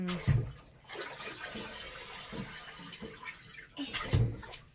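A toddler splashes water in a bathtub at home, with sloshing and running water throughout and a few louder, sharper splashes near the start and end.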